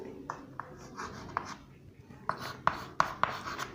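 Marker or chalk strokes on a board while an optics equation about apparent and real depth is worked out: a dozen short scratchy taps and scrapes in uneven bursts, close and fairly quiet, with faint voice in the background.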